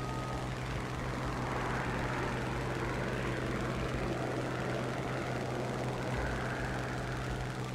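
Propeller aircraft engine in the War Thunder flight game, a loud continuous droning roar with steady tone, filling the whole stretch without breaks.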